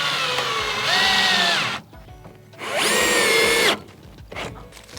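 A power drill drives screws into a pine board in two loud, close whirring runs, each rising and falling in pitch, with a quieter gap between them and a short final burst.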